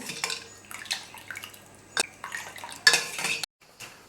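A spoon stirring rose syrup into milk, with light clinks and scrapes against the vessel at irregular intervals, some liquid swishing, and a short gap near the end, all close and fairly quiet.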